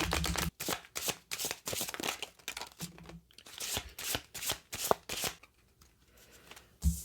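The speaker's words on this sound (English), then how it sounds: "we are going to shuffle the cards" A deck of tarot cards is shuffled by hand in repeated bursts. Each burst is a crisp riffling, rustling sound up close, with short pauses between them and no speech.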